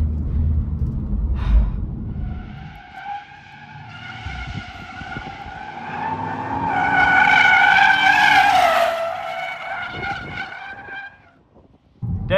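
An Audi RS5 drifts sideways through a corner, its tires squealing in a loud, sustained, wavering screech that swells in the middle, set against engine roar and rumble.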